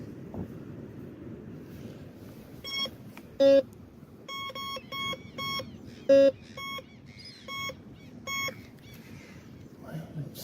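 A metal detector sweeps a beach and gives a series of short, clear electronic beeps. Some are louder than others, and they sound over wind noise and faint background sound.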